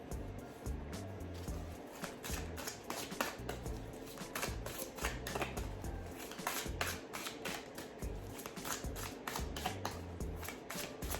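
Tarot cards shuffled continuously by hand, a steady papery riffling and flicking with cards occasionally slipping loose, close and moderately loud throughout.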